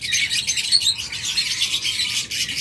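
Several diamond doves kept together in a colony cage, giving bright chirps and twittering calls close by, with a soft flutter of wings and a steady low background hum.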